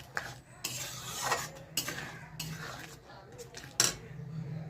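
Spoon stirring dalma, a lentil and vegetable stew with coriander leaves and garam masala, in a metal pot: repeated scraping strokes and clinks of utensil against the pan, close and moderately loud, with no talking.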